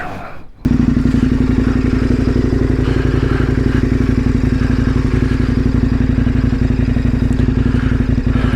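A motorcycle engine idles steadily and close by after a jump start, a loud continuous throbbing rumble with a brief quieter moment at the very start.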